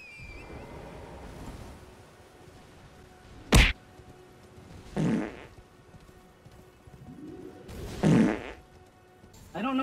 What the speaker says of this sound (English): I don't know why that guy farts so much.